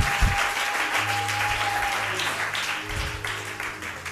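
A church congregation applauds and cheers for the Lord during a sermon, a dense, steady wash of clapping with a few raised voices, loud and sustained throughout.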